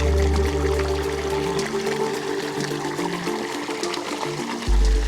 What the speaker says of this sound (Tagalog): So we are trying to drain everything so that we can start it by 8 o'clock.